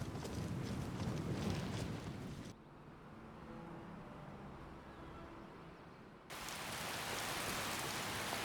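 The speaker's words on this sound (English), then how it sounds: "Well, it's absolutely tipping it down. I'll be glad to get out of this rain." Heavy rain in the Skyrim video game: a loud, dense hiss of downpour that drops to a muffled, quieter patter midway, then surges back to full intensity, with no talk.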